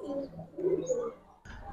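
Pigeons at a market pen coo in soft, low, rolling phrases, fairly close, with a brief pause before another coo resumes near the end; no voices.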